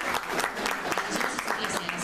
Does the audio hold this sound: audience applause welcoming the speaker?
yes